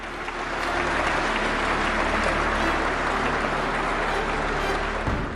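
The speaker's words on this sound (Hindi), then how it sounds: "दरबार हॉल तालियों की गड़गड़ाहट से गूंज रहा था।" Steady, sustained applause fills the Durbar Hall of Rashtrapati Bhavan during a Padma Shri award ceremony, a dense crowd clapping continuously at even loudness before it cuts off near the end.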